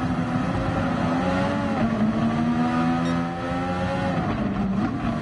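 A race car engine in Gran Turismo Sport drones loud and steady up close, its pitch rising and falling slightly as it holds high revs through a race without pause.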